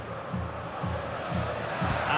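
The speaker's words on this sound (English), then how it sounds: "The crowd certainly think so. Just listen to them." A football stadium crowd roars, its low rumbling noise pulsing in a steady rhythm of swells about every half second, like a chant, with no one talking over it.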